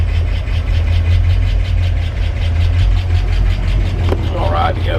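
A homemade small vehicle engine built from metal idles steadily with a low, continuous rumble, loud and close throughout, with a brief scrape and a short higher whine near the end.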